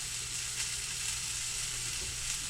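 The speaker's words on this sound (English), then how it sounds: "Now to caramelize the onions" Onions frying in a pan to caramelize, a steady dense sizzle that stays close and even throughout, with no talking over it.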